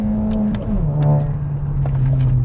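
VW Scirocco GT engine held at steady high revs for a handbrake launch, a loud continuous drone that drops slightly in pitch partway through, close and with no talking.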